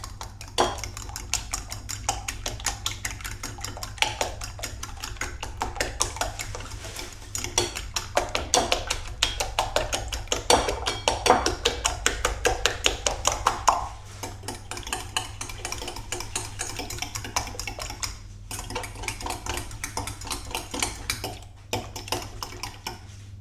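Eggs being stirred with salt and dried dill in a bowl, a utensil clinking and tapping against the bowl in rapid, uneven bursts, close and fairly loud, easing off briefly near the end.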